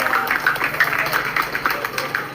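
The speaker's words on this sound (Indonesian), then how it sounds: "Tepuk tangan meriah Pak." A crowd at a political youth discussion event in Lubuklinggau, South Sumatra, claps and cheers as a party official is welcomed, uneven bursts of nearby clapping rising and falling with crowd noise.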